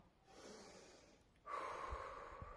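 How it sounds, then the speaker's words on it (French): A single person does a deep breathing exercise, taking a slow audible inhale followed by a stronger, rushing exhale, quiet and close with no talking. "Respire avec moi."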